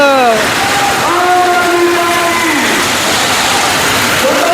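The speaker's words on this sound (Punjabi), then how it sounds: "ਦੇਖੋ ਜੀ ਬਹੁਤ ਜ਼ਿਆਦਾ ਮੀਂਹ ਪੈ ਰਿਹਾ ਹੈ" Heavy rain, with hail, pours down at an outdoor political rally. It makes a loud, steady roar, with tonal voice-like sounds rising and falling over it.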